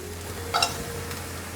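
Carrots and shiitake mushrooms stir-fried in oil in a wok, a soft steady sizzle with a brief metallic scrape of the spatula midway, close and fairly quiet.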